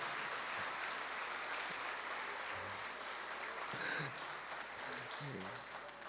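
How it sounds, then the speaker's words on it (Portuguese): Steady church congregation applause fills the room throughout, a dense wash of many hands clapping at even volume with faint voices mixed in. "Pode aplaudir o Senhor Jesus."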